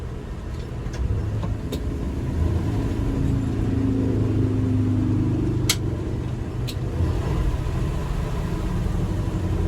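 A 1988 Chevy R30 truck drives with a low, steady engine rumble that swells slightly as it pulls, accompanied by a few sharp clicks and knocks, no speech.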